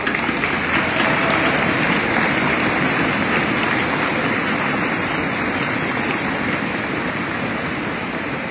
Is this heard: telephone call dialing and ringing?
no